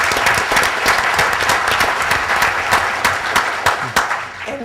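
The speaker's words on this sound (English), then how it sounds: "I'd like to give you a big round of applause." A big round of applause for Aiden, a college athlete whose team made the NCAA tournament, fills a breakfast event hall: dense, steady clapping from many hands throughout, with no voices over it.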